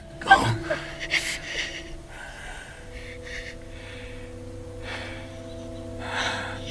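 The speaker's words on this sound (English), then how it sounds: "as a beloved character takes his last breaths" Gasping, labored dying breaths of a wounded superhero in a film death scene, a sharp gasp near the start followed by ragged breathing beneath a sustained orchestral score.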